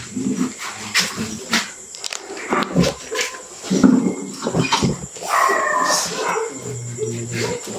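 A dog barks and howls in uneven bursts, close by, with some people talking in the background between the calls.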